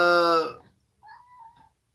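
A young grown-up pet cat meows indoors: one loud, full cry, then after a pause a fainter, thinner meow that lingers about half a second.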